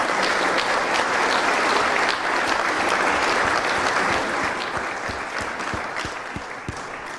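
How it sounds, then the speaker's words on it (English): A live audience at an evening talk event in a Bishop Hannington venue gives sustained, dense applause for a guest speaker, steady for about seven seconds and easing slightly toward the end. "Let's give a big round of applause for Jonathan Aitken."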